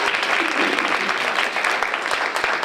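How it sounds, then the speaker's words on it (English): Audience at a women of color entrepreneur conference breaks into a big round of applause, loud, dense clapping that stays continuous throughout at close range. "let's give ourselves a great big round of applause"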